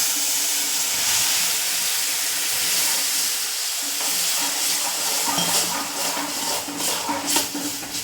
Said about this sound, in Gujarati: આપણે પાણી વેરીએ